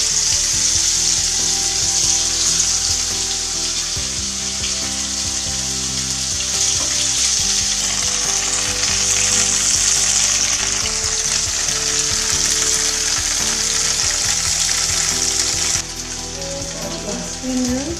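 Tofu fries in a pan with a steady, close sizzle and crackle that runs unbroken for the full length, easing slightly quieter near the end.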